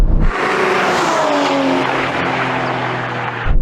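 An Aston Martin V12 Vantage accelerates hard in a drag race, its V12 engine roaring loud and close with steadily climbing pitch through the gears, sustained for several seconds with no talking.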